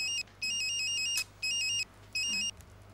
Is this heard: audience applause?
no